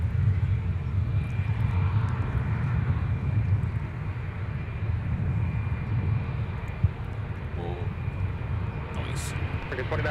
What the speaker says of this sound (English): Shall we judge Sun Country's landing with a close-up shot?